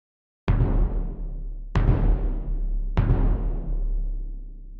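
Three deep, booming bass drum hits from the Synchron percussion library, spaced about 1.2 seconds apart, each with a long, distant reverb tail from a faraway-echo preset that blurs into the next strike, loud and alone.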